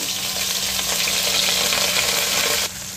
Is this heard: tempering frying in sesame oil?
yes